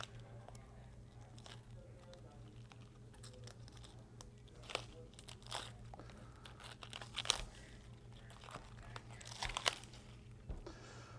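Outer leaves are peeled off a head of cabbage, producing faint, irregular crisp crackles and snaps over a low steady background hum, with a few sharper tearing bursts close by.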